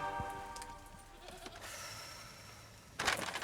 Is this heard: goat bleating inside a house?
yes